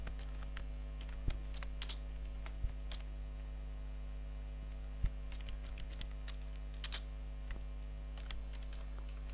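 Scattered keystrokes on a computer keyboard while C++ code is typed, with single light clicks spaced irregularly over a constant low electrical hum.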